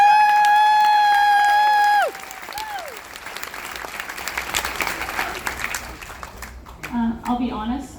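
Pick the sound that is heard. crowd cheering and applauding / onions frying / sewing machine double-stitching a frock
crowd cheering and applauding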